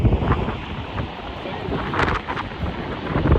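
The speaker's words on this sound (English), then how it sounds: "it is very windy right here." Strong wind gusts buffet the microphone atop a dam at Yosemite, a continuous loud roar with rushing surges and no voices.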